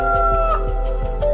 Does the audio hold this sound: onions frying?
no